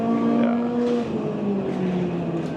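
Racing car engine from a Ferrari GT driving simulator, a loud steady drone with shifting pitch as revs change, close and unbroken, with no talk over it.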